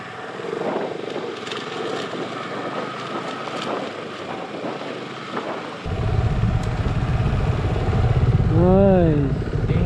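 An off-road motorcycle rides along a rough trail under strong wind noise, then its engine roars in loud and close, revving with rising and falling pitch toward the end.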